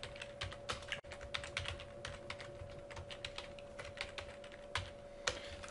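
Fingers type code on a computer keyboard in a quiet room, with soft, irregular key clicks in quick runs and short pauses, close to the mic.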